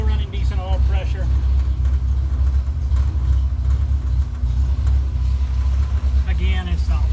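A 1964 Mercury Comet engine idles steadily nearby with a low, even rumble, not fully warmed up, as someone talks over it.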